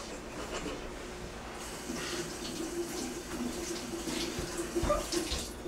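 Tap water running steadily into a sink as vegetables are washed under it in a kitchen, a continuous close hiss with small splashes and brief clinks, no talk.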